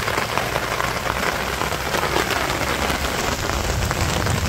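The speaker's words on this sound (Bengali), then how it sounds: "দেখেন তো কত সুন্দর বৃষ্টি হইতেছে।" A steady, heavy rain drums on surfaces in a village, a loud continuous wash of dense droplets with no voices.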